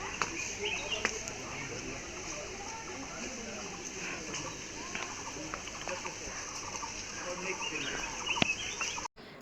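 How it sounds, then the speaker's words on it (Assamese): Birds call in an orchid park at Kaziranga around midday, scattered chirps and clucking calls over a steady outdoor background, with a person talking softly underneath. "আপোনালোকে শুনিছেনে চৰাই চিৰিকটিৰ মাত কিমান যে ভাল লাগে নহয়নে"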